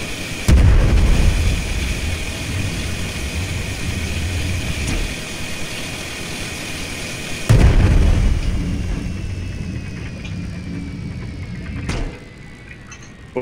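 Heavy ship cannon shots and explosions in the airship game Worlds Adrift: a loud booming blast near the start, a second big blast around midway with a rumbling decay, then a sharper crack near the end, over steady engine drone.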